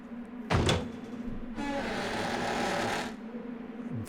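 A door in Resident Evil Code Veronica opens with a heavy clunk followed by a long, rumbling slide or creak lasting about a second and a half, then settles back to quiet ambience.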